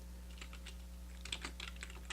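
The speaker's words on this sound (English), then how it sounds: "If I hold down Shift while I press Y" Keys on a computer keyboard clack in a quick series of light taps, a dozen or so close presses over a low steady hum, with no speech.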